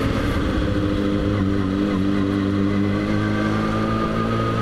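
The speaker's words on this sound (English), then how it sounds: "My exhaust is so loud in the street." A motorcycle's loud exhaust rumbles steadily from start to finish, with a strong low-pitched drone and layered engine harmonics. The sound is close up and dense, and no talk is heard over it.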